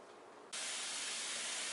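A rice cooker steaming as four cups of rice cook, a steady loud hiss that starts suddenly and holds evenly, close by, with no talking.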